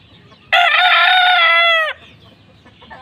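A rooster gives one loud, close crow of about one and a half seconds among gamefowl, with softer clucking and faint background noise before and after.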